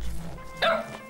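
A dog gives a short yipping bark, near and moderately loud, as dogs warn off a cat trying to reach a nest of baby birds.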